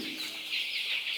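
Asil Peruvidai chickens on a poultry farm give soft, continuous clucking and chatter, steady and moderately near, with no voices over it.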